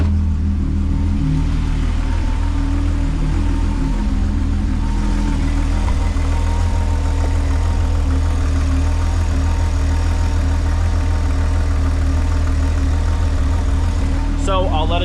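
A Volkswagen engine, freshly repaired after coolant and oil leaks, idles steadily and close by, a low even rumble that holds throughout without revving.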